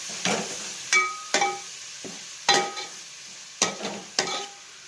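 Tomatoes sautéing in a pan for Kerala-style egg curry, stirred in a series of distinct scraping strokes with soft sizzling between them, close and fairly loud.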